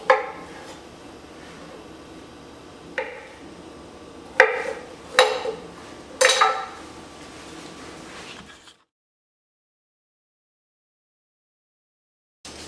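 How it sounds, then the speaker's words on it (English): Knife cutting potatoes into thick quarters in colonial-style cooking, a few sharp chops on a board, the last ones coming in quick succession, then silence. "Slice the potatoes thickly into thick quarters."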